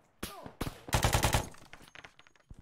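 Gunfire from a weapon in a video game, heard as a few separate sharp shots followed by a rapid burst of close, loud reports that trails off into scattered single hits.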